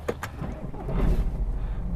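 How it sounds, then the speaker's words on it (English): A car door thuds shut from inside the vehicle, a couple of sharp knocks early on followed by a low rumbling interior resonance, fairly close and moderately loud. "now I'm going to get in the car, slam the door"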